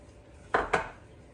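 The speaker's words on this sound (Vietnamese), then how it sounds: "Rồi bắt lên bếp một cái nồi." A metal cooking pot is set down on a stove, giving two quick close clanks a moment apart against a quiet kitchen.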